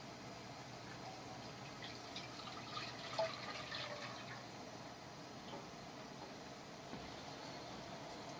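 Broth is poured into a pan, a soft, faint steady liquid pour and splash over a low background hum, with no talk.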